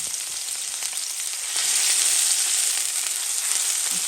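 Chopped onion fries in a little oil in a pan, a steady close sizzle with fine crackling that grows slightly louder partway through, with no voices.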